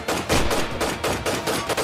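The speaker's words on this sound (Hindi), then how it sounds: "सभी की स्टैंड गन गोलियां उगल रही थी" Stand-mounted guns fire as a sound effect in a Hindi horror audio drama, a dense, continuous rattle of rapid shots. It is loud and unbroken for about two seconds with no voices.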